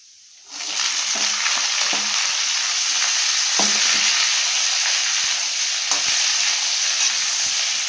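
Hyacinth beans hit hot oil and break into a loud, continuous sizzle, with occasional stirring clinks over the steady frying hiss.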